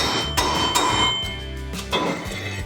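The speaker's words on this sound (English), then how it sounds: "I got a seal installer here that's gonna get us right down to the depth that we need" Several sharp hammer strikes drive a seal installer onto a Harley-Davidson FXR wheel bearing seal, close and metallic over a steady background hum, irregularly spaced with no talk.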